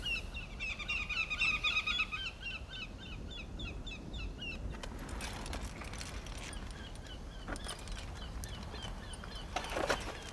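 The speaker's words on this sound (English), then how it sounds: "Very, very vocal birds." Birds call from a cliff face in Guyana, a family group of a pair with a youngster giving repeated bright chirps early on, then fainter scattered calls over quiet outdoor ambience.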